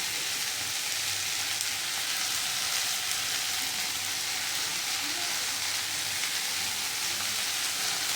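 Onions frying with salt in a pan for piaz posto, a constant, even sizzling hiss with no distinct stirring strokes, steady and moderately loud throughout.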